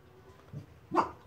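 A dog gives a single short bark close by, indoors during a Halloween fang-making session, after some faint shuffling and low sounds; no talking over it.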